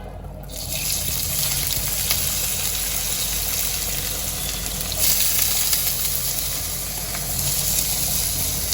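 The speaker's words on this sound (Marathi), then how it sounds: "आता कढीपत्ता पण चांगला तडतडलाय आता मी हळूहळू करून सर्वात पहिले मी कांदा घालून घेते" Chopped onion tipped into hot oil already crackling with curry leaves for Maharashtrian-style egg bhurji, giving a loud, steady sizzle that holds throughout with a brief surge midway, no voices.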